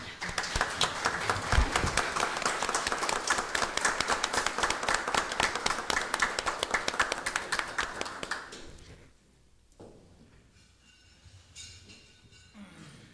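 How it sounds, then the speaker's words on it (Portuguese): Applause for a guest at a municipal council session in Tijucas do Sul, with dense, steady clapping from a seated audience for about eight seconds before it fades into quiet room tone. "vamos saudar ele com a salva de palmas aí, pessoal"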